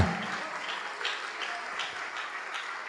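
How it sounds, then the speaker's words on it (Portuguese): A church congregation applauds at a Portuguese-language worship service, a steady wash of clapping at moderate distance that holds evenly for a few seconds with slight swells. "Vamos aplaudir muito, igreja."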